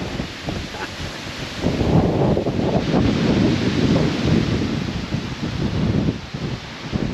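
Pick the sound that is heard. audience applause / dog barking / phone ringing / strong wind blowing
strong wind blowing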